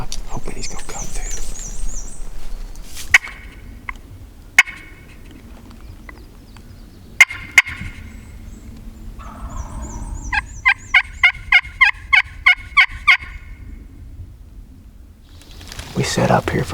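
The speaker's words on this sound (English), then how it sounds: "He's just went back to gobbling a couple of times." Wild turkey gobbling on steep public hunting land in Kentucky, a rapid rattling series of calls heard twice at middle distance, the second burst louder and longer, set against quiet woodland with brief knocks and rustles.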